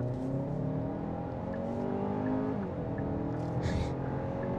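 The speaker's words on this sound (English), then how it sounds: "So let's go ahead and give it a little bit of an acceleration run here." A 2023 Hyundai Santa Fe, hybrid or 2.5-liter turbo, accelerates hard with a steady, continuous engine and road roar that rises in pitch, heard from inside the cabin with no talking.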